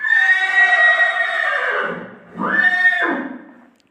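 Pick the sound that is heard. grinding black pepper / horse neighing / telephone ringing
horse neighing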